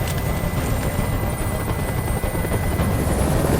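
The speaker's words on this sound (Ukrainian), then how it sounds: "Скажи, щоб прибрали гелікоптер." Continuous rapid thudding of helicopter rotor blades in the video game Detroit: Become Human, loud and close, holding steady throughout with no talking.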